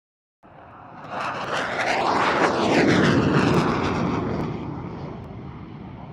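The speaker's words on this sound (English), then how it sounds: "now this Hunter is quite extraordinary aeroplane" A Hawker Hunter jet aircraft roars past, its broadband engine noise swelling to a loud peak with sweeping tonal whine, then holding as it moves on.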